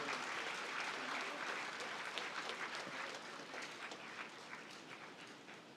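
Sustained applause from an awards ceremony audience, a dense steady wash of many hands clapping that holds for several seconds and tapers slightly toward the end.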